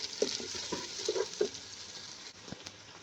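Sliced onions frying and browning in a pan for a Pakistani sponge gourd sabzi, a soft steady sizzle broken by a few short stirring scrapes and clinks, with no talk.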